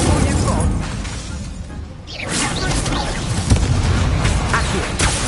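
Incendio fire-spell blast in Hogwarts Legacy on PS5: a fiery whoosh and crackling burst amid a loud, continuous clatter of combat effects, close and busy, with a brief lull before the flames roar up again.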